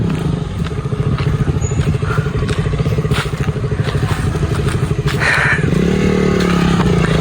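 A KTM motorcycle revs hard and steady up close while the rider pulls a stoppie and a power wheelie, the engine note droning continuously with brief clattering knocks and a louder surge near the end.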